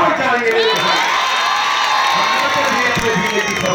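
A large crowd at an AIMIM political rally in Dhule cheers and shouts in a loud, continuous roar with whoops and a few scattered claps, filling the space without letup.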